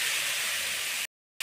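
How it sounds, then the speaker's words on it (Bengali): Chopped tomatoes fry in a hot pan, making a steady, broad hiss that runs unbroken and then cuts off abruptly to silence. "এখন আমি টমেটো কুচো দিয়ে দিচ্ছি, এটাকে এখন ভালো করে ভাজবো।"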